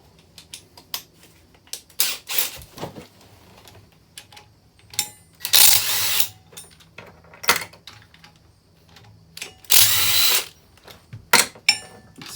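On a 1991 Lotus Esprit engine, a power tool works the flywheel bolts in several short, loud bursts of whirring, mixed with many metallic clicks and knocks between them.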